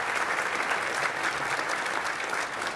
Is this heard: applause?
yes